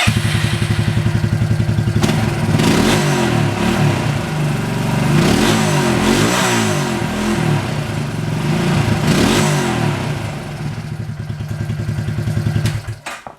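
A Suzuki King Quad 300 ATV engine, freshly rebuilt, cranks and catches, then runs loud and steady with rough clattering and periodic revving swells before cutting off near the end.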